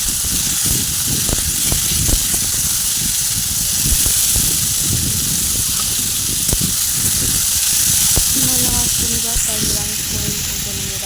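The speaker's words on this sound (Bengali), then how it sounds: "ভেজে নেবো হালকা বেশি লাল লাল করবো না হালকা করে ভেজে নেবো" Spices fry lightly in a pan with a loud, continuous hissing sizzle and scattered scraping stir strokes, close up, with a voice briefly heard near the end.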